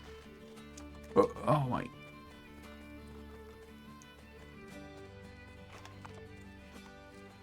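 A short, loud horse whinny bursts out over quiet background music in the Assassin's Creed Brotherhood video game, followed by faint hoof clops, while a player speaks briefly.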